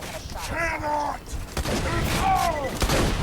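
Gunfire and grenade explosions in the shooter video game Borderlands 2: bursts of shots and blasts keep going under excited voices talking over the fight.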